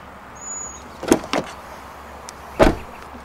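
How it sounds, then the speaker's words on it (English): A Chevrolet Bolt EV's door locks actuate in quick mechanical clunks, a pair of close thuds followed a moment later by another single clunk, heard up close with no talk. "One time unlocks the driver's door, and the second will unlock the rest of the doors."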